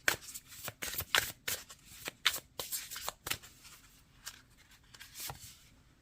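Tarot cards are shuffled and drawn by hand in short papery riffles and flicks. They come in uneven bursts, close and fairly quiet, and no one speaks.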